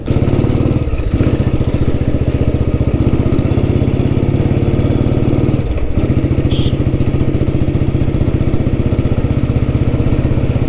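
A close vintage Royal Enfield Bullet motorcycle engine thumps along steadily with a rapid, even beat on a test ride, briefly dipping twice as if shifting gears, loud and continuous with no talking.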